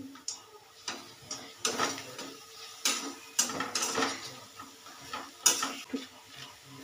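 Spice masala sautéed and stirred in a pan for a cauliflower rezala, irregular scraping knocks of a spoon against the pan over a faint sizzle, close and uneven.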